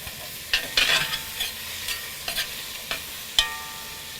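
About six roughly chopped garlic cloves cook in oil with onions in a pan, making a continuous crackling sizzle broken by several sharp spoon scrapes and stirring clicks.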